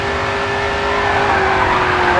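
A race car in GRID 2 brakes hard, its tires squealing in a loud sustained screech over the engine's drone, rising slightly toward the end.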